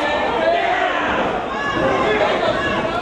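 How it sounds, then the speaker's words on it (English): A wrestling crowd at a Reality of Wrestling vs IMPACT Wrestling show chants Eddie Edwards' name, a steady, dense roar of many voices filling the arena without pause. "listen to the Rose crowd here chanting Eddie Edwards' name"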